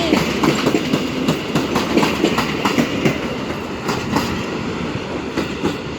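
A Polish Impuls electric multiple unit passes through Warszawa Wschodnia station, wheels clattering steadily over rail joints in a loud, close, continuous rumble with no voices.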